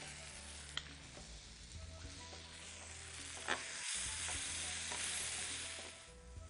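Onions fry softly in a pan with a little brown sauce poured over them, a quiet, even sizzle with a couple of faint clicks and a brief break midway.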